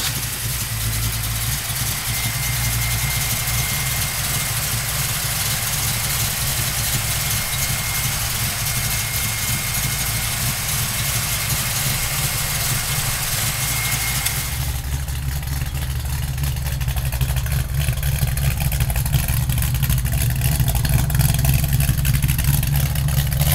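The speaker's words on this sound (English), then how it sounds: "fire up that 428 with those dual 4s on it" A 1967 Ford Mustang's 428 V8 with dual four-barrel carburetors runs steadily at a lumpy idle, close and loud, its tone shifting slightly about two thirds through, with no one talking.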